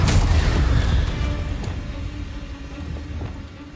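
A Confringo fire spell detonates in the Hogwarts Legacy video game, a loud, deep booming blast that rumbles on and slowly fades over a few seconds.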